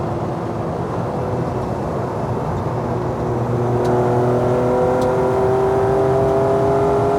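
A hydrogen-engine Toyota Corolla racing car of about 300 horsepower revs steadily, its loud, close engine drone climbing in pitch with whirring harmonics and no talk over it.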